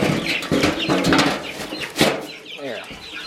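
A backyard flock of hens, Leghorns, Delawares and silver laced Wyandottes, clucking and squawking close by in bursts, with a sharp loud call near the middle and faint rustling between.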